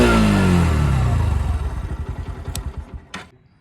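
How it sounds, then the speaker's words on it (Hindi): A Bajaj Pulsar NS 125 motorcycle's single-cylinder engine, loud and close, roars at first and then settles into a fast, steady chugging idle, with a couple of sharp clicks near the end. "बाइक स्टार्ट हो जाएगी, स्टार्ट होते ही मीटर का कुछ ऐसा लुक आएगा।"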